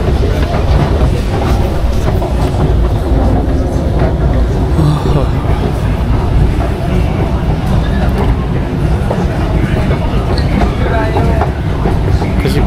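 A train running on rails, heard from aboard during a trip in Germany: a loud, steady rumble with rhythmic wheel clatter and rattling carriage noise continuing unbroken throughout.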